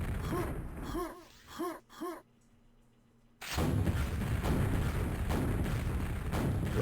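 Rocket launcher fire in a QuakeWorld deathmatch: a couple of sharp bursts, a brief near-silent gap, then a loud sustained roar of blasts and explosion rumble.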